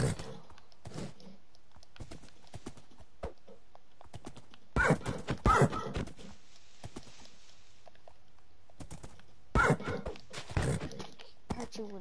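Minecraft horses make scattered hoof clip-clops and a couple of louder bursts of whinnying, with soft keyboard clicks and quiet gaps in between.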